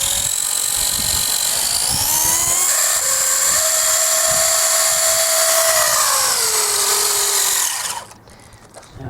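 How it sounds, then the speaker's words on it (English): Rolling chassis of a homemade steel RC army truck, running with a steady, loud mechanical whine and buzzing vibration from its PTO drive, with the pitch rising and falling slightly before cutting out sharply near the end. "I'm pretty sure that's caused by the vibrations from the PTO."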